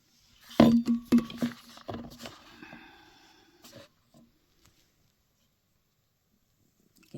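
Drinking yogurt ladled into a bowl, with a cluster of sharp clinks of ladle against dishware in the first two seconds, a few softer taps after, then near silence.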